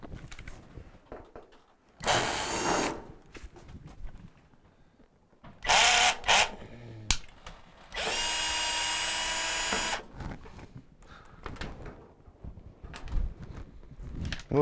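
A power drill removing screws from the front panel of a Maytag washer, in several short whirring bursts separated by quiet pauses, close up, with a little speech.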